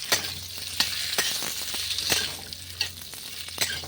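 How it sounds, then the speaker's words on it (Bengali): Cut flat beans tossed in hot oil with mustard and carom seeds, giving a close, steady sizzle broken by sharp spatula strokes against the pan every half second or so, with no voices. "যে শিমগুলো কেটে রেখেছিলাম সেই শিমগুলো আমি একটু তেলে নাড়াচাড়া করে নিচ্ছি।"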